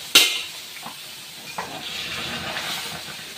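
Water hits a hot cooking pan with a sharp hissing burst, then settles into a steady sizzle and bubbling, with faint clinks and no talking.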